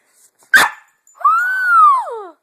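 A dog gives one sharp bark followed by a long, whining, wavering yowl that falls in pitch, both close and fairly loud with no talking.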